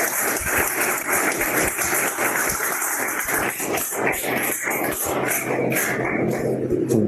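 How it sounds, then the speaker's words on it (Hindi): An audience claps continuously at a diploma distribution ceremony for new neurotherapists, a busy, crackling patter of many hands that holds loud and even throughout. "ताली बजा सकते हैं आप लोग सभी।"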